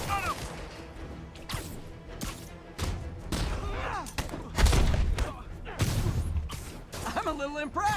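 Gunfire in the Marvel's Spider-Man video game: repeated sharp shots and crashing impacts in irregular bursts, mixed with whooshes and game voices shouting over the action.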